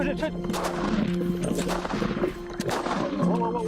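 A single loud gunshot from a .375 H&H Magnum hunting rifle fired during a lion hunt in Tanzania, ringing out over a dense, noisy field background with no clear talk.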